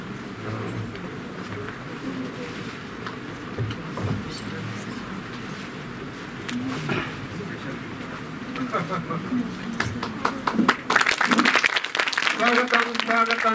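Audience applause welcoming guest Ashok Nagarkar at a state-level colouring competition prize ceremony, a steady crowd clapping that swells louder toward the end, with murmuring voices underneath.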